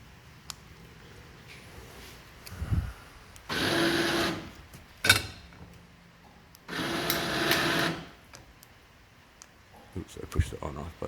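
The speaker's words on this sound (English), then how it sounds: "I got this little remote for the winch. It's a Harbor Freight winch." A small Harbor Freight electric winch on a Haul Master pickup truck crane whirs in two steady bursts of a few seconds each, with a short click between, close and moderately loud amid quiet handling noises.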